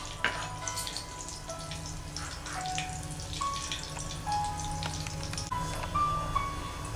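Two spoons of desi ghee heating in a pan for besan laddu, giving a steady soft sizzle and crackle close by, with faint clinks and stirring over a low hum, no voices.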